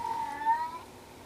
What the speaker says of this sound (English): And you can hear him meowing at the door.